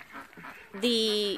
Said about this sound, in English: if you can hear me over the ducks